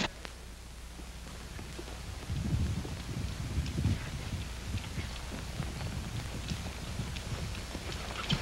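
Hooves of a horse on open range in a 1939 Western, starting quietly and then picking up into a steady, rapid clip-clop rhythm at moderate distance, mixed with faint wind-like background noise and no talk.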